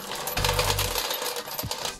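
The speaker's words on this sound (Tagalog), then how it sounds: "So meron nga po tayong barya dito guys, mga 10 piso coins po ito." Philippine 10-peso bimetallic coins clink and rattle together in a short burst, close and fairly loud, with a couple of sharp metallic taps.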